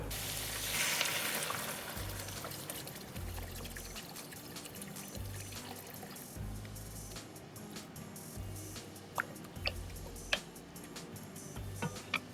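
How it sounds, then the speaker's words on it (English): Chicken bok choy soup with soy sauce at a rolling boil in a pot, giving a steady bubbling and sizzling wash with faint clicks and a few sharp ticks near the end, no talk. "Now that it's all boiling"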